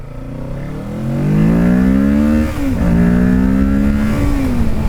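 A 2024 Kawasaki Ninja 650 engine accelerating hard while ridden, its pitch climbing steadily, dipping briefly at a gear change, then rising again, loud and close throughout.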